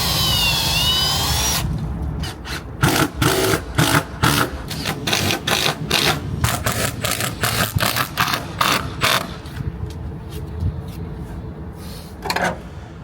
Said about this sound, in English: Another example of using the ship saw was to cut the bevel out for a repair